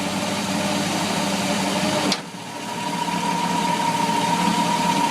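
Boat engine running in gear with a packed stuffing box, a steady droning hum with a faint whining tone; a brief sharp click near the middle interrupts it before the drone resumes evenly.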